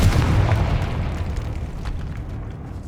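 A Confringo blasting spell explodes in the Hogwarts Legacy video game, a loud booming burst at the start that rumbles and fades away over a few seconds.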